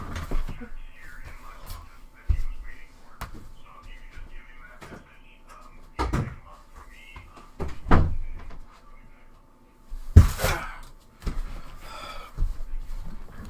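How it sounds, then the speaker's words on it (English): A cupboard or door is handled indoors: scattered knocks and thuds build to a sharp bang of it being opened or closed near the end, followed by faint whispery rustling. "Let me see if I left the door open."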